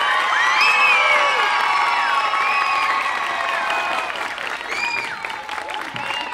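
A crowd at a Tahiti Nui Polynesian dance show applauds and cheers loudly and steadily, with shrill whistles and whoops rising over the clapping, which eases off slightly toward the end.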